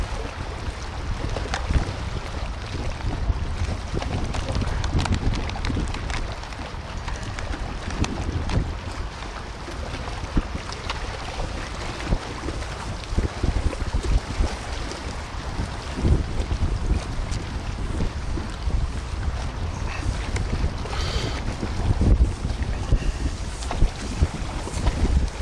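Wind blowing across open water on a fishing trip, a loud continuous roar buffeting the microphone throughout, with steady gusty rumble and no talk.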